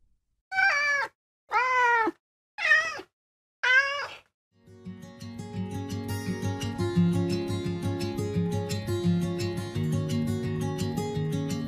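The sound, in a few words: cat meowing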